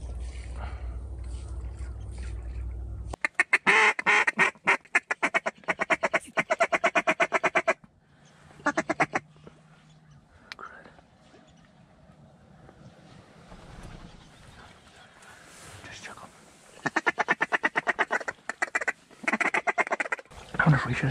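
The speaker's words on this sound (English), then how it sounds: "There's a drake in the water, yeah." Ducks quack near a hunters' blind with a drake on the water, bursts of rapid quacking that come and go amid wind noise and quiet stretches, with low voices of hunters in between.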